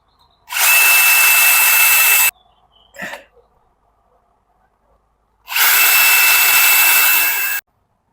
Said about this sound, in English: I have now pre-drilled 2 holes, and I will be installing the bracket.